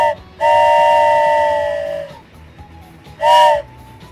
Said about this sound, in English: Oh, a train whistle, of course.